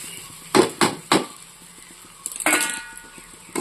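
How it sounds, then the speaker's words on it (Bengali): A spoon scrapes and knocks against a pan while fruit pickle and sugar are stirred, a few sharp clacks followed by a busier burst of scraping, close and fairly loud with no talking. "তো আমি এবার এটাকে নাড়াচাড়া করব যতক্ষণ চিনিটা গলে"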